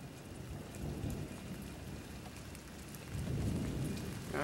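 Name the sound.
rain falling during a thunderstorm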